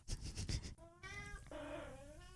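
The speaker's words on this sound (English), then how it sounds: "she is meowing and purring and doing all the things she can to get my attention right now." A pet cat meows several times in a row, the calls clear and close, with softer vocal sounds in between and nothing else in the background.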